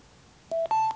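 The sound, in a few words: Cytem Sound-10 Bluetooth speaker pairing beeps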